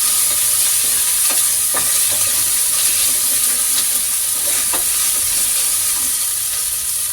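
Masala with garlic paste fries for a fenugreek leaf pulao, a loud continuous hissing sizzle close by, with a few faint scrapes of a stirring spoon and no speech.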